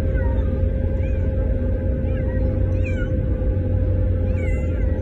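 Cats give faint, scattered meows and wails while hiding from cat carriers. The sounds sit under a loud, steady low rumble of background noise.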